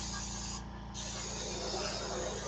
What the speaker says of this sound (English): So again, I'm just spraying downward so I get a bit of a fade.